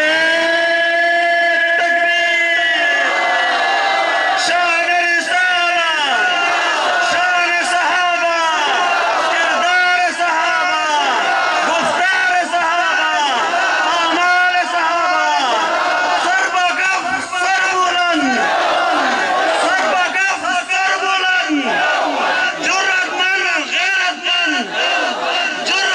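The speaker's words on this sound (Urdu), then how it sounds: "نعرے" A large crowd at a religious gathering in Karachi chants slogans in unison, loud rhythmic call-and-response shouts repeating steadily with voices rising and falling together, continuous and close throughout.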